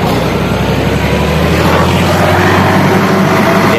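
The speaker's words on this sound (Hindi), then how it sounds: "ट्रैक्टर ट्राली का शोर सुन" A loud, steady tractor trolley engine drone with a deep rumbling hum, close by and continuous throughout.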